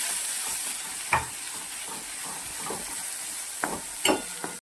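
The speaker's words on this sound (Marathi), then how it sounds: "कलर चेंज होईपर्यंत आपल्याला परतून घ्यायचं आहे" Besan curry base sautéing in a pan gives a constant hissing sizzle with a few scattered clinks and scrapes of a spoon being stirred, close up, with no speech.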